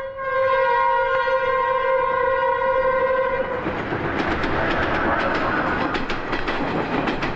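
A train passes close to a railway track, a long, loud horn blast giving way to the roaring rumble and rhythmic clatter of wagons rolling by, with no voices.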